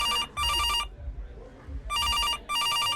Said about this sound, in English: I'm drying my hands with a paper towel when suddenly my cell phone rings